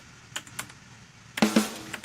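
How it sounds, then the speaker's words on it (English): Keyboard typing sound effect played during a livestream: a few sparse, faint key clicks followed by a louder, denser burst of clattering keystrokes and a sharp final thump. "Oh, we got the keyboard typing."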